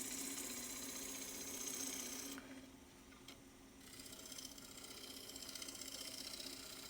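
A 1/2-inch Doug Thompson bowl gouge cuts a small piece of locally grown cherry spinning on a lathe, a steady close scraping whir that drops away briefly mid-clip and then resumes.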